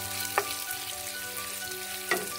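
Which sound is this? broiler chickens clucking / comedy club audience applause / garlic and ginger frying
garlic and ginger frying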